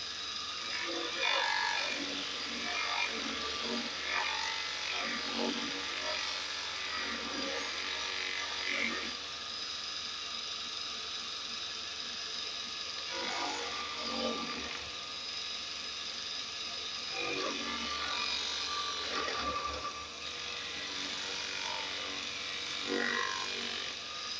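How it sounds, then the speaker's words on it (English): A 120V single-phase bench grinder converted to a variable-speed belt grinder, buffing a workpiece: a steady mechanical whir with repeated rougher bursts of contact noise as the piece is pressed to the belt, no talk. "I can do grinding still. Or I can do buffing."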